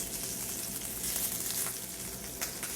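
Four prosciutto-wrapped asparagus bundles with mozzarella cook over lowered heat in a pan, a soft, steady sizzle with light crackles and a few brief pops, no talking.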